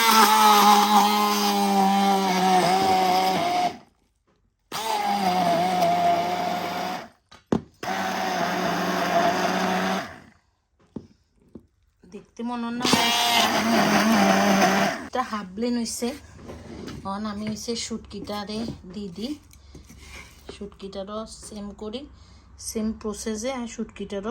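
An electric blender whirs loudly while blending a bhorta mash in a home kitchen, running in several bursts with brief stops, then falls silent as a person talks.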